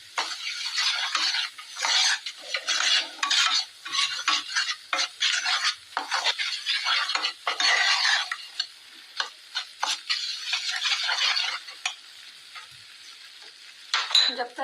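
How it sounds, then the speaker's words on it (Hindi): Wheat flour roasting in a pan is stirred steadily, with a constant dry scraping and soft sizzle as a spoon works through it, close and busy with no talk. "जब तक ये आटा भून रहा है"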